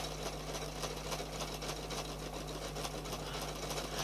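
A sewing machine runs steadily while it stitches decorative stitches in a circle, giving a quiet, continuous whirring hum with a faint rhythmic patter from the needle.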